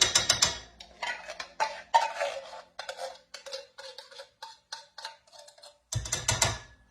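Scraping of thick, paste-like cream of coconut out of its container for Puerto Rican arroz con leche, a quick series of short, close scrapes and taps with brief gaps between them.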